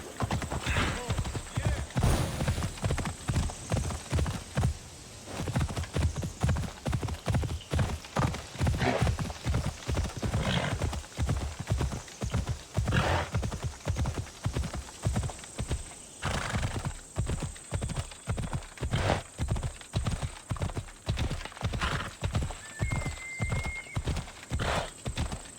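A horse gallops in Assassin's Creed Odyssey, with rapid, rhythmic hoofbeats pounding steadily and loudly throughout, a whinny near the start and faint game ambience underneath.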